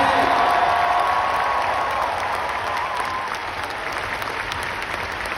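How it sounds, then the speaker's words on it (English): Loud, sustained applause from a large crowd at a university basketball event, steady throughout with a faint cheering edge, no one speaking over it. "Give her a round of applause, Kentucky"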